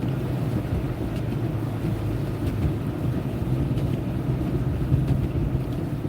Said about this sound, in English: You can tell by the slush and that sound how bad it is.